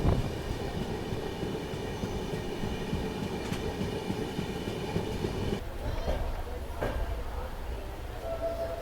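Uttarbanga Express (13147) train running on the Kolkata to Darjeeling route, a steady loud rumble of rolling wagons throughout, with a brief shift in tone partway through.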